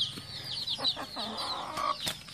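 Chickens clucking in a small group of hens and newly hatched chicks, several short calls at close range with faint pecking taps in between and no voices.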